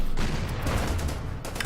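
Gunfire in the WWII strategy game Order of Battle: Panzerkrieg, a dense, loud roll of overlapping shots and booms with bursts of rattling fire, continuous through the short stretch.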